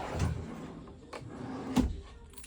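A kitchen drawer in a 2025 Meerkat travel trailer slides open and shuts, with a soft thump near the start and a sharper knock near the end, close by and without speech.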